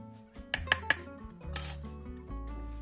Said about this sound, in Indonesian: kemudian kita aduk rata dulu